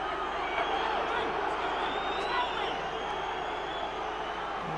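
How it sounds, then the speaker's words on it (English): Football crowd at a 1991-92 Middlesbrough match, a steady roaring din of supporters urging their side on as a corner is won, continuous and fairly far off with a broadcast commentator talking over it. "Crowd really behind Borough now."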